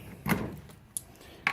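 A US General toolbox drawer lock is turned, giving a few sharp metallic clicks and clacks spaced apart, close and fairly quiet.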